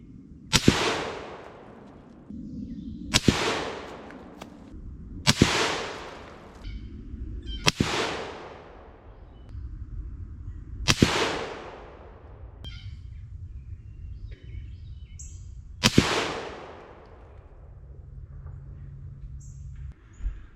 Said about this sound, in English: I fired 3 rounds at each target.